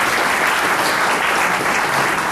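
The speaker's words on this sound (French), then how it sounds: "Nous applaudissons s'il vous plaît." Dense, loud applause from a large audience at a formal launch ceremony for family allowance payments to employers, steady and unbroken for the whole stretch before cutting off at the end.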